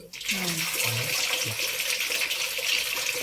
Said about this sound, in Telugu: బ్లాక్ వాటర్ వస్తాయి చూడండి